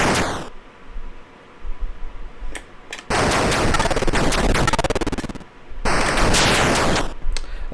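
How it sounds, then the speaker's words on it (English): Rapid bursts of player shots firing in the 1983 Atari 2600 game Air Raid, harsh buzzing electronic blasts in long sustained volleys broken by short gaps, loud and close. "My shots just occasionally fire around."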